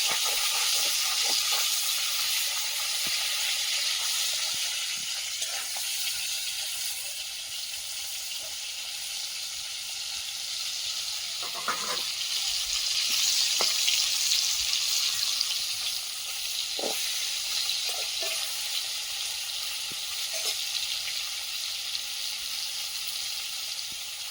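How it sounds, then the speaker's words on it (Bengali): Small parshe fish frying in hot oil, a steady broadband sizzle and hiss running the whole way with occasional sharp pops and spatters, fairly close and with no talking. "তেলটা গরম হয়ে গেছে, আর মাছগুলো ভেজে নিচ্ছি।"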